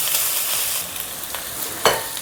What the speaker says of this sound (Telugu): సో జింజర్ గార్లిక్ కూడా బాగా ఫ్రై అయింది కదా